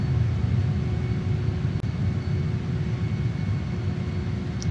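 A JAS-39 Gripen jet over Canberra gives a constant broad engine roar and rumble that fills the whole stretch without letup, loud and steady with no voices.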